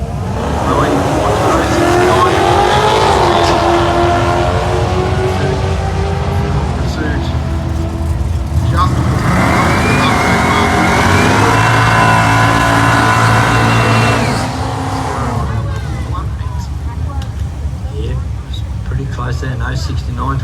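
At a street-car drag racing event, a VE Commodore roars down the strip, its engine loud and rising through gears, with a crowd murmur and announcer voice over the cars.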